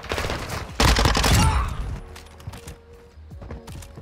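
Burst of rapid gunfire from a weapon in the video game Modern Warfare II, loud and dense for about a second, followed by scattered mechanical clicks and handling noises, with no talk during the clip.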